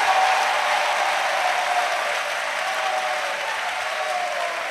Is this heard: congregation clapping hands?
yes